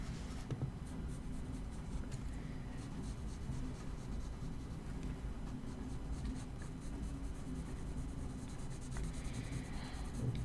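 A pencil sketches lines on paper during an observational drawing session, a soft continuous scratching and rubbing, faint and close, over a low steady room hum.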